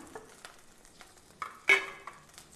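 Chopped onion hits hot coconut oil with a sudden loud sizzle, preceded by a few light clinks and quiet scraping, then settling into a softer crackle.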